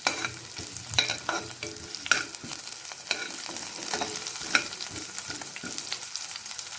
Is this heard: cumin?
yes